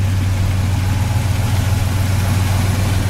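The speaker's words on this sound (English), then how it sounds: "Powered by its original numbers matching 350 two-barrel V8 engine." The original numbers-matching 350 two-barrel V8 of a 1972 Chevy Chevelle Malibu idles at close range, a steady, loud, low rumble with even pulsing and no revving.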